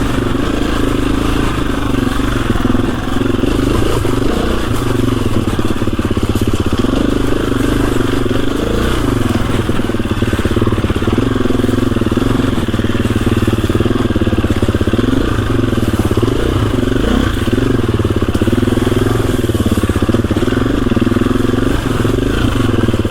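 A KTM EXC-F 350 dirt bike idles steadily while warming up on a snowy ride, its engine note loud, close and continuous, with slight rises in revs and no speech.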